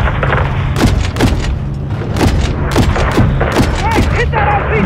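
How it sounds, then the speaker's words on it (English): Call of Duty Modern Warfare III combat around a hangar: loud, rapid gunfire and repeated booming RPG blasts come close together over a constant low rumble, with voices shouting underneath. "RPG fire coming from east of the hangar"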